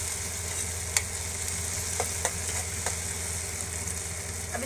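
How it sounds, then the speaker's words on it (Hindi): Chopped tomatoes sauté in a pan for Bombay Maggi, making a steady, even sizzle that stays alone throughout, with a few faint clicks from a stirring spoon. "टमाटर को भी हमने 2 मिनट के लिए ही सॉटे करना है।"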